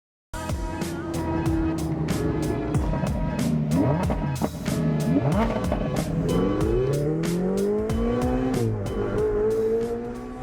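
Ferrari sports cars at an annual Ferrari Festival: loud engines rev and accelerate nonstop, their pitch sweeping up and down as several cars overlap close by, with no talking.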